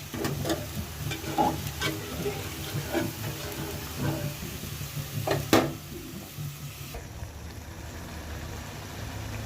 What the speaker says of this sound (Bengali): এখানে একটু নেড়ে চেড়ে দিতেছি, এখনো কষানো হয়নি।